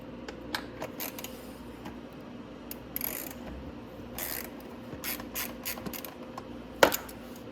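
A ratchet wrench loosens a 10mm bolt beneath the body of a Venom 1300W electric ATV, giving bursts of quick, close metallic clicking over faint background hum, with no talking.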